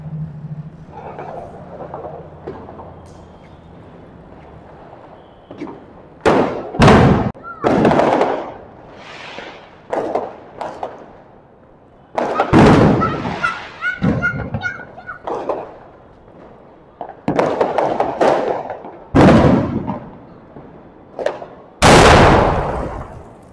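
Diwali firecrackers burst at a home celebration on Laxmi Puja night, a string of loud, sharp bangs and crackling pops at irregular intervals, with children and adults talking between them.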